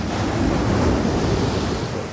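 Sea waves wash against the shore in a steady broadband rush, with wind buffeting the microphone throughout and no voices.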